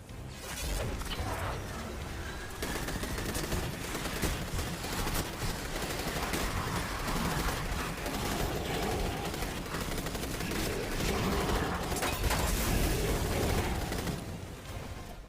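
Breakneck weapon in Destiny 2 gameplay firing as sustained rapid automatic fire, loud and continuous for about fifteen seconds amid crashes and impacts.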